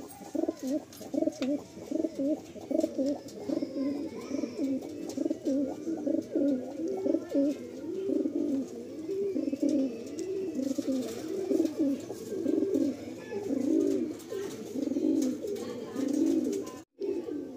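Pigeons in a loft coo continuously in soft, rolling throaty phrases that overlap and swell, steady and close throughout, with faint background noise.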